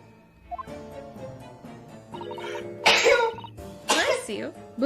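Someone sneezes loudly twice in quick succession, close by, while people talk and other voices carry on around it.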